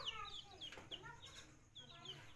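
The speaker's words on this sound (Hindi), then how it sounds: "ये देखें मुर्गा मुर्गी" Chickens, including a rooster and hens, clucking and calling in a coop, several close, short overlapping clucks in quick bursts at low level.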